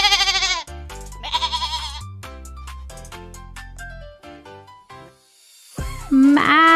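A farm goat bleats loudly and close by, a few wavering cries separated by pauses, ending with a sharper, higher call.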